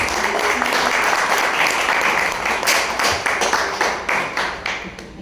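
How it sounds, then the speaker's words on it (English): An audience at a conference gathering breaks into sustained, dense applause that holds steady for several seconds, then thins into scattered, fading claps near the end. "Let's give her a round of applause"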